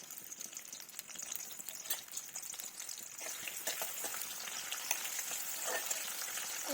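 Onion and mustard seeds fry in hot oil in a wok, giving a continuous crackling sizzle with scattered sharp pops that grows slightly louder toward the end, with no voice.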